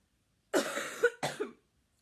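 A sick person gives two close, harsh coughs in quick succession, the first longer and the second shorter, against an otherwise silent background.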